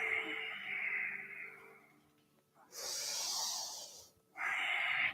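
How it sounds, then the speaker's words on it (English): Deep yogic breathing during a Kundalini session: a long, airy inhale fades out, then a strong, rushing full exhale, a brief pause, and another forceful breath begins. "Deep inhale, circling around to the front. Exhaling, really complete full exhales."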